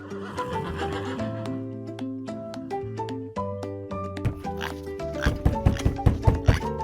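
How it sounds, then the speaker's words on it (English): On a farm a brown horse whinnies amid background music, the neigh rising over sustained tones before rhythmic percussive beats take over near the end. "I see a brown horse."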